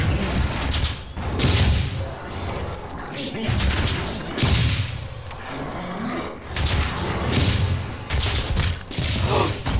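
Missiles fire and explode in the Doom video game, dense repeated blasts and booming impacts rolling in waves, loud and continuous throughout.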